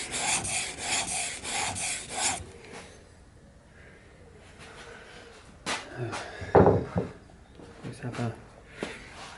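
Plane or chisel blade being sharpened by hand on an abrasive, heard as a few rhythmic rubbing strokes, then quieter scraping and handling clatter, close up, with someone talking over parts of it.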